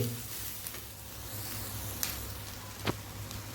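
Onions with ginger-garlic paste, turmeric and asafoetida frying in a pan, a quiet steady sizzle with a couple of faint stirring scrapes, close and low in level with no talking.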